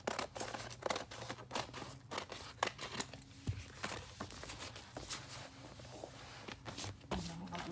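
Vinyl sheet being cut after folding to a crease, with close scissor snips and crinkling rustles of the material repeating in uneven bursts, while packing and shipping orders of shirts.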